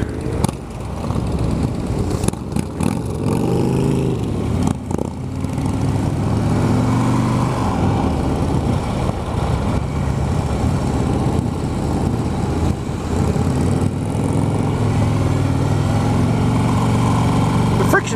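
A 2016 Harley-Davidson Road King runs with a steady, loud engine rumble throughout, while someone talks over it.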